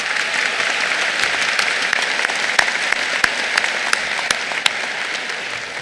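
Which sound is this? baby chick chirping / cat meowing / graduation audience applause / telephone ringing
graduation audience applause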